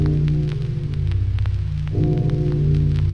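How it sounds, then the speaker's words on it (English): Sample in Reason Grain given a subtle fine-tune pitch shift, a dense droning synth tone with granular crackle that bends slightly partway through, steady and prominent with no talking. "So it's kind of a real subtle pitch shift"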